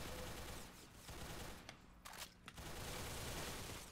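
Automatic gunfire from a weapon in the Roblox game Arsenal, a dense continuous rattle of rapid shots that briefly drops out near the middle and then resumes at full loudness, with no talking.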